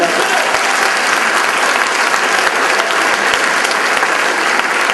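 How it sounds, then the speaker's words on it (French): A comedy show crowd (Opti-Dieu Merci, 2013 edition) gives a big round of applause, with dense, loud and steady clapping that fills the room evenly from start to finish. "une bonne main d'applaudissement, Yvan"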